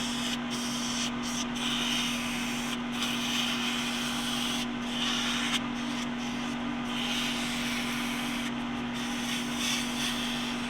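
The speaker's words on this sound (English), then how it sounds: "Now we're just gonna polish it up." A machined UHMW plastic bushing is polished on a running machine, giving a steady rubbing, sanding-like hiss over a constant motor hum, with brief dropouts in the hiss scattered throughout.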